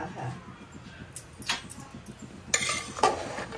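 Kokani-style prawn rice is stirred in a metal pot at a homestyle eatery near Murud Beach, with a few scrapes and two clear metallic clinks over low background noise.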